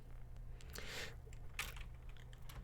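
Computer keyboard typing in a quiet room, a steady run of soft clicks with a couple of brighter key bursts, close and continuous over a low background hum.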